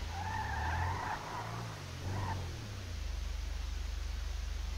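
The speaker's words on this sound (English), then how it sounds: "Considering this sounds like it's got a bloody V8, it don't go fast." A V8-engined car in GTA 5 skids at speed, with tire squeal and a low engine drone that fades after a few seconds into a steady idling rumble, with no voices over it.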